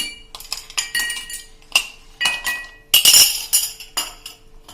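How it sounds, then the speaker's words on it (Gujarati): Two ice cubes dropped into glasses, heard as bright, close clinks and rattles of ice striking glass, with a louder cluster of knocks in the middle of the sequence. "એના માટે આપણે 2 ગ્લાસ લીધા છે, એમાં આપણે બે ક્યુબ નાખી દેશું આ રીતે"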